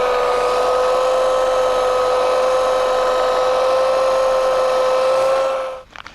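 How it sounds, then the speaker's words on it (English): Small high-pitched power tool whining steadily while cutting through a root of an air-layered rough bark elm, a loud, constant tone lasting about six seconds before winding down, close up with no voices. "I think it's time to go ahead and cut this root."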